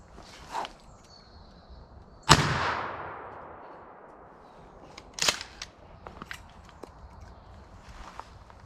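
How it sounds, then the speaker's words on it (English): A shotgun fires a hot glue slug outdoors at a log, one sharp, loud blast with a long decaying echo, followed by fainter clicks and handling noises. "The gun was loud, minuscule recoil, but it did hit."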